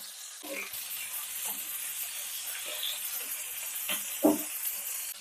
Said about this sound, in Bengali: এই মাছগুলো আমি হালকা করে এপিট ওপিট করে ভেজে নেব